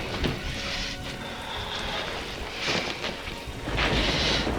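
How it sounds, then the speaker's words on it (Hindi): Rain falls steadily with deep rumbles of thunder rolling in several bursts, a continuous wet hiss beneath the swelling low booms. "बारिश फिर शुरू हो गई।"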